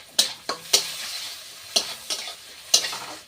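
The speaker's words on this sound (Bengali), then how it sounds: "পরিমাণ মতো পাঁচ ফোড়ন দিয়ে দিচ্ছি" Panch phoron spices hit hot oil for a fish curry, a quiet background sizzle broken by several sharp clanks and scrapes of a spoon against the pan at irregular intervals, with no voices.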